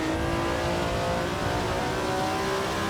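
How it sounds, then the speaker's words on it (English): A classic racing car engine in the video game Assetto Corsa, at Aintree 1962, drones steadily at high revs, a continuous buzzing roar with a faint rising whine, heard alone. "let's listen to some engine noises"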